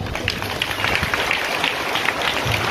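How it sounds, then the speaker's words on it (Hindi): A church audience applauding for Tulsi during a Hindi sermon, steady dense clapping from many hands filling the space, moderately loud and close, with no talk over it. "तुलसी के लिए ताली बजाइए"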